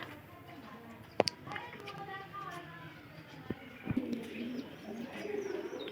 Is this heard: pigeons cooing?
yes